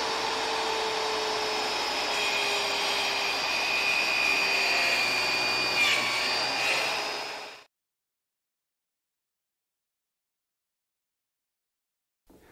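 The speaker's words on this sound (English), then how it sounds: "Now again, I'll measure my offset for my circular saw base and finish up that last cut." A circular saw cuts wood for a podium book stand leg, a loud, steady high whine with a rising pitch that runs for several seconds before cutting off sharply into silence.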